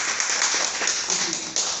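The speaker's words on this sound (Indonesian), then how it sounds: "Tepuk tangan dulu dong kalau punya potensi." An audience at a seminar breaks into applause, a dense, steady, fairly loud clatter of many hands clapping, with a few sharper claps standing out.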